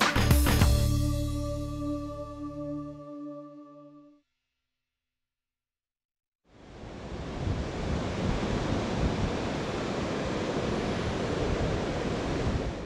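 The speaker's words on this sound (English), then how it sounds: "A beach in Devon." Surf washing onto a beach in Devon, a steady broadband roar of breaking waves that fades in after a few seconds of silence and holds loud and continuous to the end, preceded by a brief burst of unrelated music.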